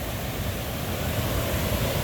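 Water at Duden Waterfall in Lara, Antalya, rushes steadily in a continuous broadband roar, close and even throughout, with no voices.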